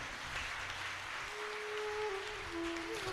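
A large devotional gathering in Bengaluru gives a faint, steady ripple of applause that carries on without a break, heard at a distance under a soft tone that slides up and down.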